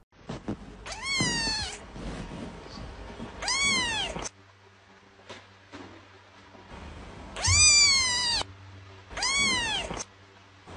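A cat meows four times in two pairs of long, loud, wavering cries with quiet gaps between them, close to the microphone.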